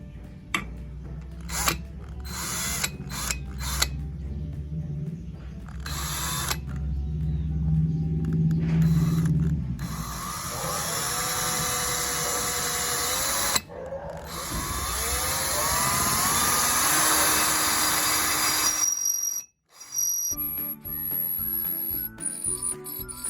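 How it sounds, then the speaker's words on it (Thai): A Total TIDLI20031 cordless impact drill with a 6 mm bit drills through 2 mm steel, its motor whirring in several bursts with grinding, rising pitch as the bit bites, separated by short pauses. "ดอกสว่านขนาด 6 มิลนะครับผมลองเจาะเหล็กหนา 2 มิลนะครับ"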